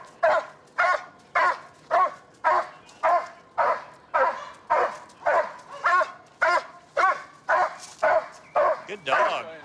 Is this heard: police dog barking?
yes